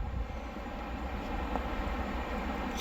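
Low steady rumble and hum of an EN57 electric multiple unit of Koleje Dolnośląskie at Wrocław Nowy Dwór station, a continuous drone heard close with no talk.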